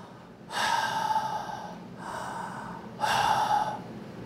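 Voice imitating breathing as the Hebrew word ruach: three breathy exhalations, each about a second long, close and fairly quiet, with short pauses between.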